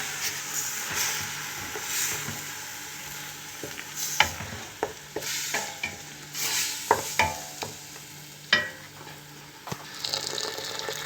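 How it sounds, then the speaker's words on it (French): Harira soup is stirred in a pot in a home kitchen, with a steady wet swishing and a faint sizzle running throughout, broken by a few sharp clinks of the spoon against the pot. "Puis je vais mélanger."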